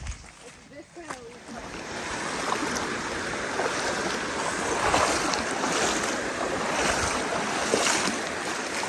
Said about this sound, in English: I honestly did not know we had a creek crossing today.